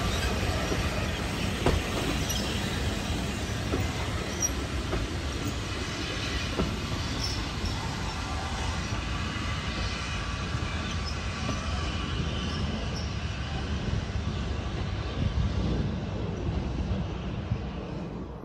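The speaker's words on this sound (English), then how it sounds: "this train is doing another return trip to Middleton Park Halt" A train on the Middleton Railway in Leeds rumbles steadily past coming out of a tunnel, with broadband rolling noise and occasional wheel clicks, fairly loud and continuous throughout.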